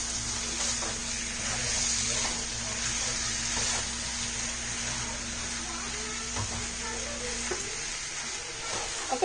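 Chicken pieces coated in homemade masala sizzle and fry in a pan, a steady close crackle running for most of the stretch before dropping in intensity near the end, with no talking.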